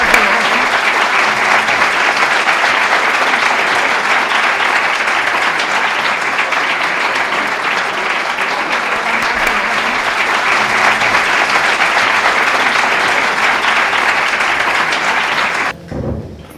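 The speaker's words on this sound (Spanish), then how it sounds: "No, ahora no, me aplaudan más" An audience at a library lecture claps in a long, loud, dense wave of applause that holds steady for about fifteen seconds before cutting off abruptly.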